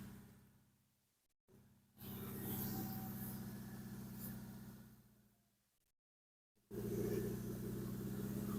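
A Yamaha Grandis scooter fitted with a Blackcore Ultimate part revs in two bursts, each a sustained droning engine note that rises, holds and fades, separated by short silent gaps, close but fairly quiet.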